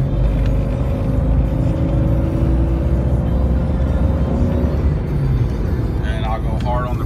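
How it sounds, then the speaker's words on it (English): A lifted, modified two-door Jeep Cherokee with a Stage 2 build accelerating hard, its engine rumbling loud and close with a rising drone that fades toward the end, faint voices underneath. "We'll go ahead and do a hard acceleration real quick."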